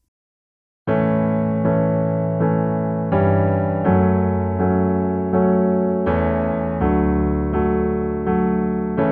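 Piano plays the chorus of a song as a sequence of full sustained chords struck about every three-quarters of a second. The playing is close and clear, with no voices.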